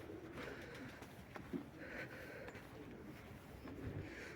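Pigeons coo softly in low, throaty tones amid a steady background rustle, a few muffled calls close by.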